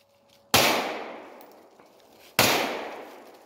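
Two loud outdoor gunshots from a CZ Scorpion and a Glock 19 pistol during a 3D shooting drill, spaced about two seconds apart, each with a sharp crack and a trailing echo.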